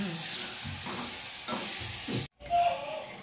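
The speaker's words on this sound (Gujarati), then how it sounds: "ખાલી આ વઘાર ખાલી ભેળવવાનો છે એમાં વઘાર ભેળવી દેવી" Hot tempering is stirred into boiled urad dal for a Kathiyawadi dish, a steady sizzle and scraping stir that cuts out for a moment, then returns with a louder hiss of steam.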